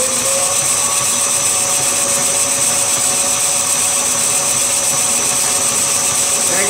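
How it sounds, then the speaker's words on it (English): A metal lathe takes turning cuts on a BSA Bantam crankcase drain plug, producing a loud, continuous whirring drone with steady tonal whine and no pauses. "Start it up and we'll take two turning cuts."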